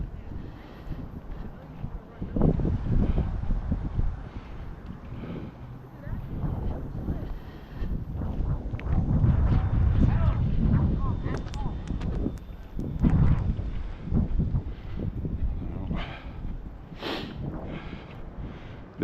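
Strong wind buffets the microphone outdoors on a long Easter walk, a broad low rumble rising and falling in gusts throughout, with a person speaking over it at times.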